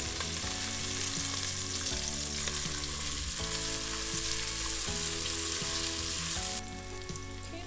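Onions frying in a pan while making baked ziti, a steady close sizzle with repeated scraping and stirring knocks from a utensil. The sound runs continuously, with a slight drop in brightness near the end.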